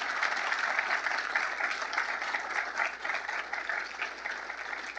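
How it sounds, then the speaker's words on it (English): A political audience gives a steady round of applause, dense and continuous clapping from a large crowd at even volume throughout, with no talk over it. "You could give her a round of applause if you agree with that."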